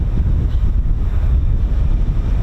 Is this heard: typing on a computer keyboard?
no